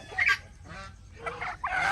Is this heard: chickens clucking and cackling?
yes